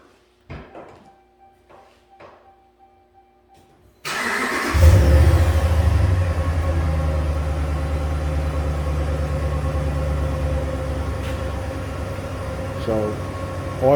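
A 2011 Ram pickup with the 5.7 Hemi, suffering low oil pressure, is restarted hot after sitting fifteen minutes: a few quiet clicks, then the engine cranks and catches loudly and settles into a steady, close idle.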